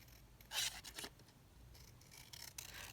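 Scissors cut through paper in a few short quiet snips and rasping slides, close but faint, with no one speaking.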